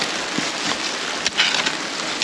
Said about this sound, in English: we don't like the rain